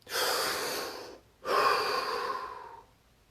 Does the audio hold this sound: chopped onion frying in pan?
no